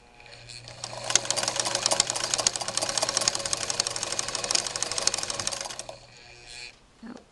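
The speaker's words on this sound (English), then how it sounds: "we're making zigzags" A Singer 15-91 sewing machine runs zigzag stitches in one close, steady whirring burst of rapid needle clatter lasting several seconds, then slows and stops with a few soft clicks.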